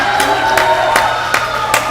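A high school lacrosse crowd at a Newberg versus Lakeridge game cheering and whooping loudly right after a goal, a short dense burst of voices with sharp yells rising through it.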